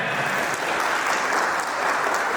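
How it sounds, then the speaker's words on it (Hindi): Dense, steady applause from an audience at a diamond celebration event in Bhopal, loud and continuous with no pauses across its length. "आज आप लोग ताली बजा रहे हैं"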